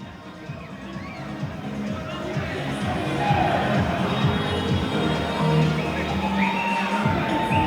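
Crowd noise swells steadily from an indoor soccer match between Turlock Express and Atletico Baja, a dense cheering and murmuring mass that grows louder midway and holds, with a commentator talking over it.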